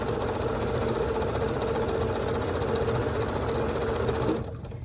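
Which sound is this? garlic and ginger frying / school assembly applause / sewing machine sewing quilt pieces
sewing machine sewing quilt pieces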